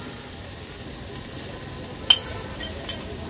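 Chopped tomato is stirred into hot tempering oil, making a soft, even sizzle with one brief sharp clink of the utensil partway through.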